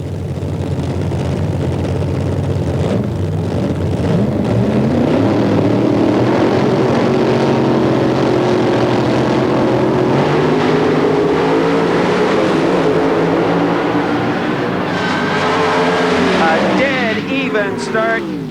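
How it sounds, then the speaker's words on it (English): Loud drag racing cars roar continuously with rising and falling pitch, revving and accelerating hard at an NHRA event in Memphis, 1993, with heavy noise throughout. "Okay, let's listen to these cars."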